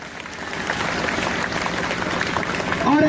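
Loud, steady applause from a crowd of protesters at a rally in Suratgarh, Rajasthan, held over teacher recruitment, sustained throughout with mixed voices underneath.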